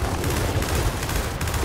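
Dense, continuous gunfire during a Gears of War 4 co-op campaign fight, loud and unbroken throughout the short stretch, with no speech.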